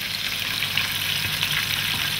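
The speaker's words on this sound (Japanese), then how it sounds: "揚げていきます。" Chicken pieces deep-fry in hot oil with a steady, dense crackling sizzle, close and continuous, with no talk over it.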